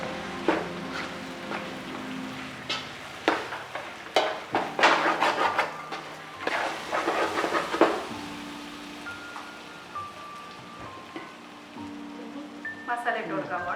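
Chicken frying and being stirred in biryani masala in a pot, a soft sizzle with clatters and scraping of a spoon against the pan, under a running background hiss.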